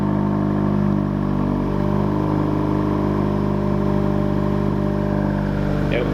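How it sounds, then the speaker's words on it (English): A 2017 Honda Civic Si with a PRL Cobra intake idles steadily after a cold start, a loud, even low rumble with a slightly lumpy, clattering texture and no revving. "currently the car is warming up. This is what it sounds like on a cold start."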